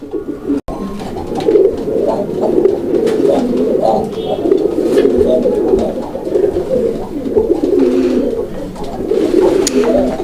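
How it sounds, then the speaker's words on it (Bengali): A male Raj-Golla pigeon coos loudly and close, repeating deep throaty rolling calls almost without pause over a low background. "এত পরিমাণ ডাকের কবুতর আসলে সচরাচর আপনি পাবেন কই"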